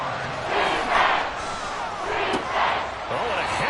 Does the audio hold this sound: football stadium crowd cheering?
yes